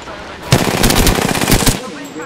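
Loud rapid automatic gunfire from the Apex Legends video game bursts in after a brief pause and rattles continuously for over a second before cutting off abruptly.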